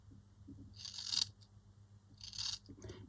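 Scissors snip and trim material at close range, two short bursts of crisp cutting about a second apart, quiet against a low background hum, with no one talking.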